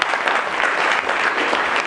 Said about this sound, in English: I'd like you to give a long applause to Ben.